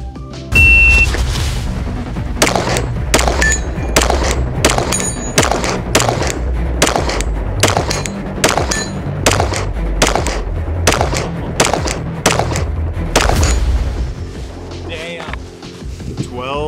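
Pistol shots fired at a Texas Star steel target 50 yards away, a long rapid string of sharp, loud cracks at an irregular pace, with distant metallic pings in between.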